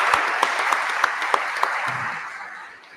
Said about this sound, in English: I think they need a round of applause because they did a superb job.